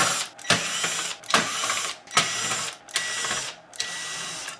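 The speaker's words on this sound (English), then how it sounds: "Let's take all the screws out." Screws being backed out of a Panasonic SA-PT770 home theater unit during a repair, heard as four bursts of ratcheting driver clicks with short pauses between them, close and clear with no talking.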